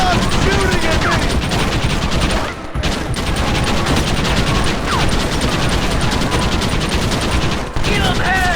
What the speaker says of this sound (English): let's smoke these fools. Take them down, Marston. Stop shooting at me!